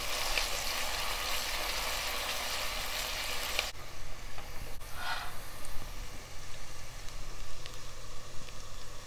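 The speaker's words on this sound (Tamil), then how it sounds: "ஆனியனை நல்லா பச்சை வாசனை போகிற அளவுக்கு வதக்கிடலாம்." Chopped onions sauté in hot oil in a pan for tomato rice, giving a steady, fairly loud broadband sizzle throughout with a brief break partway through.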